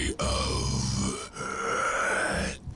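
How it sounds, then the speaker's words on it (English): Strained, drawn-out gasping groan from an undead unit in the strategy game Dawn of War Soulstorm, two long breathy vocal swells broken by brief gaps, close and fairly loud. "I don't know why he's gasping."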